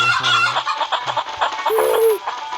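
Chickens clucking in a farm area of a multiplayer zombie video game, several birds in short overlapping bursts with a brief rooster-like cry near the end, fairly close and steady over background game sounds.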